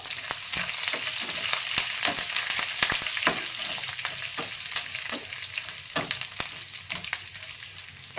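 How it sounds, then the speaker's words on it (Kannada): Curry leaves, four dried red chillies and cumin sizzle in hot oil as a tempering for sambar, with a steady close crackle broken by sharp stirring clicks and no talking. "ಹಾಗೆ ಕರಿಬೇವಿನ ಸೊಪ್ಪು ಹಾಗೆ ನಾಲ್ಕು ಒಣಮೆಣಸಿನ್ಕಾಯಿ ಸೊ ಇದಿಷ್ಟು ಸ್ವಲ್ಪ ಒಗ್ಗರಣೆಗೆ ಫ್ರೈ ಮಾಡ್ಕೊಳ್ಳೋದು"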